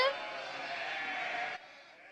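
A cartoon sheep gives one drawn-out, wavering bleat that lasts about a second and a half and then cuts off, leaving near silence.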